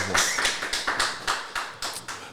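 Regular, evenly timed handclaps, about nine in quick succession, sound up close as an audience greets an interventional cardiologist guest.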